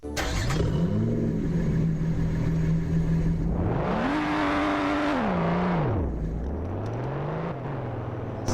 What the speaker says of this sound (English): That is a very, very cool acceleration, and this car is very, very good.